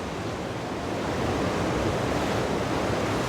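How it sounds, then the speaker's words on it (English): Water sounds outdoors near rocks under open sky, with a continuous broad wash of waves lapping and surging, steady and fairly close, with a windy rumble underneath and no voices. "we can take in the sounds of water"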